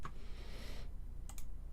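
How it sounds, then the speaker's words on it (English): Typing on a computer keyboard while writing PHP code, a few soft, quick key clicks and taps, faint and close, with no voices. "So I just started typing out array filter."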